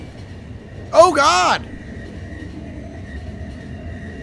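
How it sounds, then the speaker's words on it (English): A train running in the video game The Final Station, a steady low mechanical rumble and hum throughout, briefly covered by a loud, excited shout from a player. "Stop the train."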